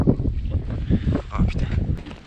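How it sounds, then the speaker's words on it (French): Gusty wind of a snowy blizzard buffets an outdoor winter bivouac at around -10°, with irregular rushing surges that rise and fall close to the microphone. "il y a un blizzard avec il y a du vent là."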